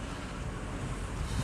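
Water from a gallon jug pours steadily into the radiator of a high-mileage Dodge Ram, a continuous broadband rushing that holds at an even level throughout, with no talking.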